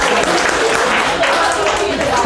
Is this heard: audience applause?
yes